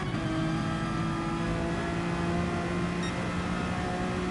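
A Porsche race car engine in a racing video game drones steadily at high revs, a continuous close whine without speech.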